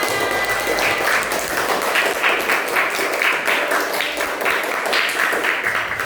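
A class of students applauds together in a classroom, a steady, fairly loud wash of many hands clapping for several seconds with a few voices mixed in.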